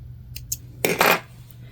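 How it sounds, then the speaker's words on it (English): Scissors trimming loose threads from sewn swim fabric: two quick light snips followed by a pair of louder, fuller cuts, close and alone. "And then we just trim away our threads."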